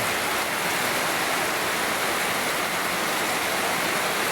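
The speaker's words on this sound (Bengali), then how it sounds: "দেখেন অনেক তুফান বৃষ্টি" Heavy storm rain pouring down, a dense, loud, unbroken roar of falling water that fills the whole scene with no voices.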